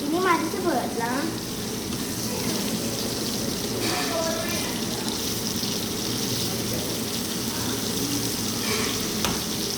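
Kolivalai fish fries in hot oil with a steady close sizzle and crackle, with occasional stirring or turning sounds layered over it.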